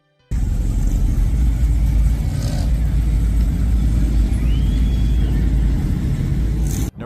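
A 1969 muscle car engine, a deep, loud, steady rumbling growl that starts abruptly, holds evenly for several seconds and cuts off at the end, with no speech.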